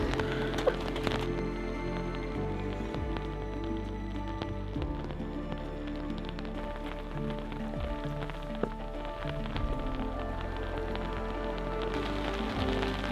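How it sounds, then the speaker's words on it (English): Steady rain falls on a long suspension footbridge in Austria, a fine constant patter with occasional knocks and creaks from the structure. No voices are heard. "I wish it would stop raining, like, just a little."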